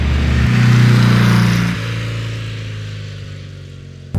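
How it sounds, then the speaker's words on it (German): A Porsche Speedster drives along with a steady, low engine drone that swells early, then settles after a gear change and carries on evenly, close and fairly loud with no talk. "Also fahren tut das Auto, das ist unglaublich, als ob er 100 PS hat."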